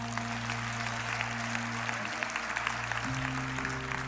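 Church congregation clapping in a steady, dense wash of applause, with a low sustained organ-like hum underneath that shifts pitch partway through.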